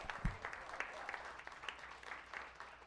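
A comedy club audience at the close of a stand-up show claps and cheers in a steady patter of applause that holds for the whole stretch. It comes across as moderately loud and fairly close.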